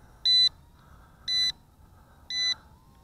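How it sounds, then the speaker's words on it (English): Three short, high electronic beeps from a Syma X20 micro drone signalling headless mode, evenly spaced about a second apart, over a faint low hum. "it beeps for a few seconds to let you know you're in headless mode"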